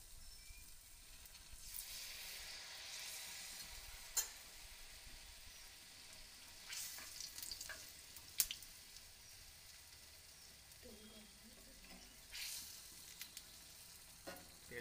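Batter frying and puffing up in hot oil, a steady soft sizzle with crackling bursts and occasional louder pops, close and fairly quiet, no one speaking.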